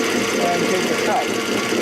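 A lathe takes a turning cut on a workpiece and breaks the shavings into small pieces, producing a steady whirring machine drone that runs unbroken throughout, with a voice partly audible over it.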